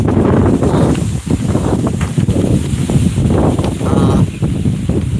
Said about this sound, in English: The wind came up and everything is blowing hard.